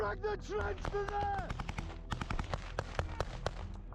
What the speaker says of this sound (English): It might look like they're firing randomly at the horizon, but each shot that they fire keeps the opposing forces' heads down